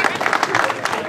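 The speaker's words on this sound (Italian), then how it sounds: "Grande Michele Puglisi, un applauso!" A short burst of crowd applause and cheering celebrates a win at a 2022 Italian slalom race in Serrastretta, loud and close, with voices mixed in.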